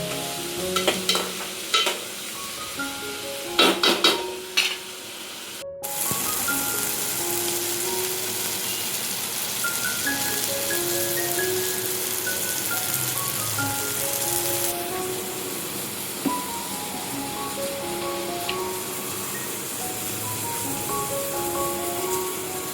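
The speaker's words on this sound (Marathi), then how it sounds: "टोमॅटो सुद्धा आपल्याला आहे ना मस्तपैकी असं स्मॅश होईपर्यंत, नरम होईपर्यंत आपल्याला फ्राय करून घ्यायचंय तेलामध्ये" Onion and tomato fry in oil for a prawn sukha, opening with a few clattering stirs of a spoon against the pan, then a loud, continuous close-up sizzle with crackling spits and no speech.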